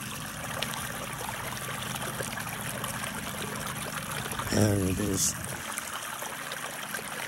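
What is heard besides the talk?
water flowing in a stream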